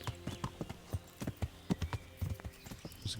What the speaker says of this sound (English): Oh, Pebbles the Wonder Horse.